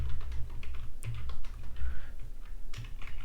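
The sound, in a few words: typing a code comment on computer keyboard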